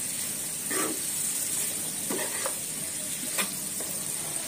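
Bell pepper (simla mirchi) bhaji being stirred and mixed in a pan, with a steady sizzle running throughout and a few soft scraping strokes of the spoon, close and moderately loud, without talk.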